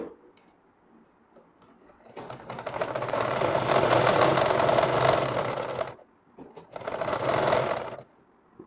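A sewing machine stitches a child's frock in two bursts, a long run of rapid mechanical clatter, a short pause, then a shorter run, with quieter handling sounds before and after.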